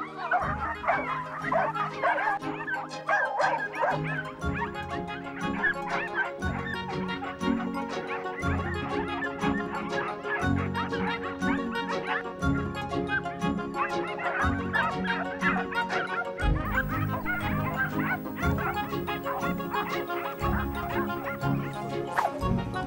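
Hunting dogs bark and yip steadily while chasing rabbits in a traditional hunt, the barks coming in dense overlapping bursts throughout, fairly close and loud, with some whimpering between.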